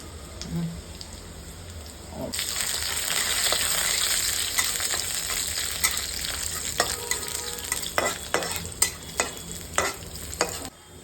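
Garlic stir-fries in a pan, a bright hiss rising sharply as it lands and then holding steady, with a run of sharp scraping clacks from a spatula against the pan toward the end.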